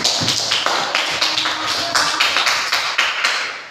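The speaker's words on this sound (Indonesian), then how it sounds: "Tepuk tangan." Students in a classroom applaud together, a dense, steady patter of many hands clapping close by for several seconds with no talking.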